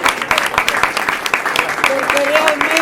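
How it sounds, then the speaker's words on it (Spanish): An audience at a trade union event on women and memory breaks into sustained clapping, with a voice speaking over the applause in its second half. "yo quiero pedir un aplauso para todos ustedes"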